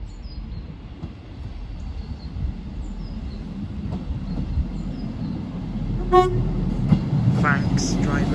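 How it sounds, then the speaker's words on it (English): A passenger train pulls into Alness station on the 14:23 service to Inverness, its rumble building at a distance beneath quiet outdoor ambience, capped by a short horn toot and some squealing as it arrives. "Here's the train just arriving right now."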